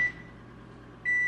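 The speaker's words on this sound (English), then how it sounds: "here I am waiting for the butter to melt in the microwave" Microwave oven melting butter, a low steady hum from the running oven bracketed by sharp electronic beeps at the start and end, quiet and close.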